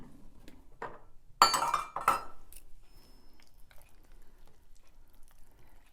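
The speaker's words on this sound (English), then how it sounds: "I'm gonna whisk these all together." Whisk and utensil clinking against a bowl while mixing pumpkin recipe ingredients, with a couple of louder scraping, clinking bursts early on, then quieter faint stirring taps close by.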